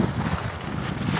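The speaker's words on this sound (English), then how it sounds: "it's kind of windy today" Wind gusting outdoors during car repair work, a steady broadband rush with low rumble buffeting the microphone throughout, no voices.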